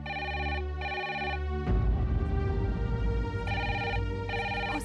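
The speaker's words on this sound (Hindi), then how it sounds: "हो सकता है नाज़िया का फोन हो।" A telephone bell rings in two clear bursts at the start and returns later, loud and close, over a busy mix of background sound in a household.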